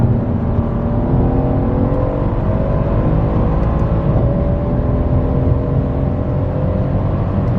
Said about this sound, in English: Beautiful sounding motor. AMG never disappoints with that